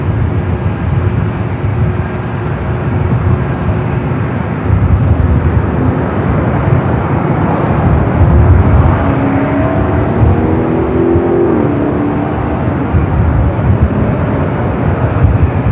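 An airliner taxiing at LAX, a continuous loud low engine rumble and whine holding steady throughout with no talk.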